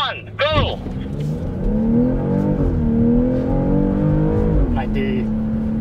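A BMW M car accelerates hard in sports mode at a driving experience day, its engine note rising and holding as it revs through the gears, loud and close.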